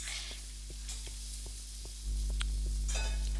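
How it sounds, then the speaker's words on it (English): A soft, steady sizzle of pancakes frying in a pan, with faint clicks and a low hum underneath. "if you can hear like some weird sizzling, then my mom's making pancakes"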